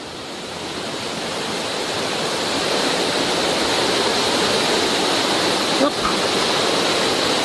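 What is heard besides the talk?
isolated waterfall in the Cirque de Saint Même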